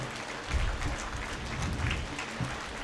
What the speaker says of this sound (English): give him a huge round of applause, a standing ovation to this man